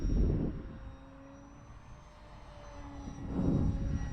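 An FMS Piper J3 Cub RC model plane climbs away in flight, its steady motor whine carrying at a distance while gusts of wind buffet the microphone at the start and near the end.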